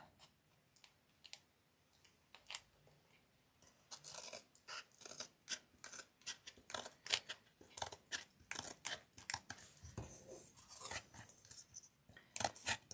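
Scissors snip paper for a craft project, a quick series of close, crisp cuts in irregular bursts, growing busier partway through.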